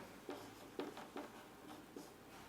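Chalk or marker writing a physics unit on a classroom board, a handful of short scratchy strokes spaced irregularly, faint and close, without speech.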